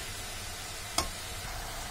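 Spiced potato and bean curry frying over a full gas flame gives a steady hiss of sizzling, broken once by a short sharp clink of a utensil against the pan.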